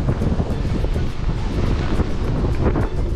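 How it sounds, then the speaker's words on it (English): Strong wind buffets the microphone continuously on a fishing boat off Florida's east coast, a loud rushing roar mixed with the wash of water around the boat. "the wind and the weather is absolutely jacked this morning"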